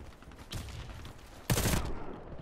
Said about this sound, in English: He literally just shotgunned me.